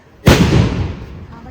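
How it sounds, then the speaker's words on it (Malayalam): A single loud firecracker blast bursts close by as a ritual offering at a temple, its boom rolling out and slowly fading away. "വെടി വഴിപാട്"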